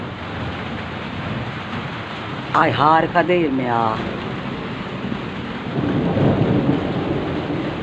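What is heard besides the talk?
rain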